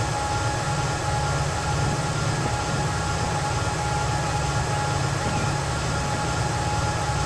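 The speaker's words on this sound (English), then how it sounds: "You can see another New York Central train coming in." A New York Central train rolls through a Transport Fever rail scene near Lake Ontario and Buffalo, a dense continuous rumble with steady engine drone and wheel noise, loud and unbroken, no voices.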